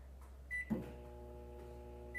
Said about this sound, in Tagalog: Lagay na natin siya sa microwave just to prove na microwave safe siya at hindi siya sasabog